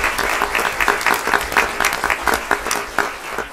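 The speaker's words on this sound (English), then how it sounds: "So I would just like to give a round of applause to the students first and foremost for that." Audience applause at a school district board of trustees meeting: steady, dense clapping from a crowd, sustained at even loudness for several seconds, with a faint voice briefly underneath.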